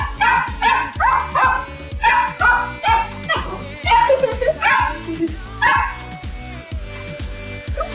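A dog barks and yips at its own reflection in a mirror, repeatedly in quick bursts, close and loud, with whimpering tones between barks over a steady rhythmic background beat.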